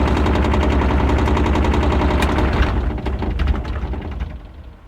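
A vehicle engine idling low with a car door rattling hard against it, a dense loud rapid clatter that carries on steadily and then eases and thins out near the end.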